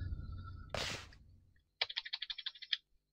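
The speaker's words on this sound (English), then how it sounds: "Sorry if you can hear the clicking in the background." Rapid mouse or keyboard clicking from someone playing a PC game, a quick run of about a dozen faint, close taps following a brief rustle and low hum.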